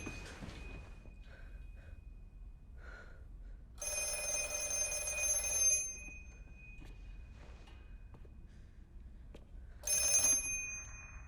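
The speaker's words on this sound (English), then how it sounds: "the disconnected black phone starts ringing" An old disconnected black telephone ringing in The Black Phone film, with two bright mechanical bell bursts, each about two seconds long, separated by a quiet pause, against faint background noise.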